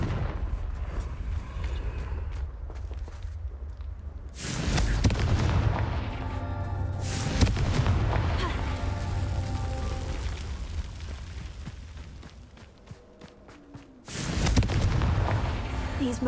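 Confringo blasting curse explosions in Hogwarts Legacy, heavy booming bursts near 4.5 and 14 seconds over a continuous rumbling game soundscape with layered magical crackle and music.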